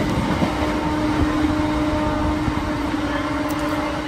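Sealdah–Godda Fast Passenger train pulling out of Barrackpore station, a steady rumbling roll of carriages with faint wheel clatter and a sustained hum, heard continuously from on board.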